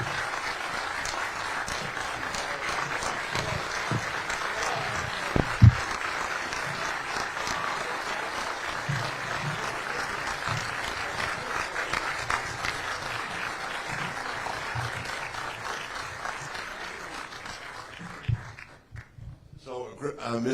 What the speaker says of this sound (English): Big round of applause for Misty, guys.